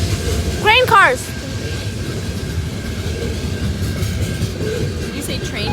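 A CN freight train of grain cars rolls past in the rain at Abbotsford, British Columbia, giving a steady, loud rumble with wheel noise, a brief squealing chirp near the start and rain hiss throughout.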